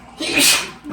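A single sharp sneeze, close and loud, bursting out in one quick blast.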